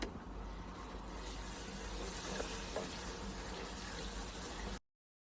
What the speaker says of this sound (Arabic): أوكي، أضيف له الحليب السائل